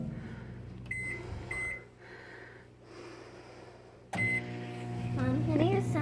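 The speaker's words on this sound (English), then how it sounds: "So here we go into the microwave, and I'm going to do it longer to see how well it melts." A microwave oven hums steadily while melting Ohio snow, with a door click and beeps partway through as the loud running drone resumes and continues to the end.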